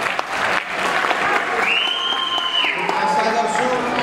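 A comedy show audience in Nepal applauds steadily, a dense wash of clapping and crowd noise that holds for the whole stretch, with a faint whistle-like tone rising partway through.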